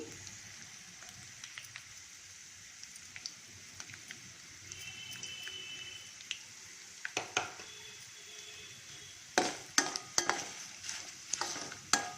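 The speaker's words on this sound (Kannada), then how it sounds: "ಇದೆಲ್ಲ ಸ್ವಲ್ಪ ಫ್ರೈ ಆಗಲಿ" Dried or red chillies fry in a pan with a soft, steady sizzle, and sharper crackles and spatters burst out toward the end. No one speaks.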